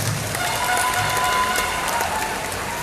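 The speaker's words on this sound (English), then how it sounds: "Let's give them a big round of applause." Big round of applause from a pageant audience at the Miss Iloilo 2020 coronation, a steady dense wash of clapping that holds evenly throughout, with a voice faintly under it.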